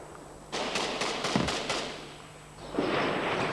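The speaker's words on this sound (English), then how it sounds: "There have been fierce exchanges of small arms and machine gun fire" Small arms and machine gun fire in a war zone, with a rapid cluster of sharp cracks followed by sustained rattling bursts, heard at a distance with no talking.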